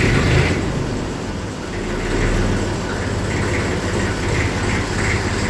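A tractor engine rumbles loudly and steadily close by, a low, continuous diesel drone that swells slightly partway through with a rattling mechanical texture on top.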